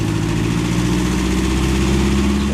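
A vehicle engine grinds along steadily in low range over soft sand on a narrow bush track, a continuous loud low drone with no break in rhythm and no voices.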